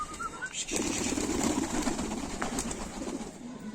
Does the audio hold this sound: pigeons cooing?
yes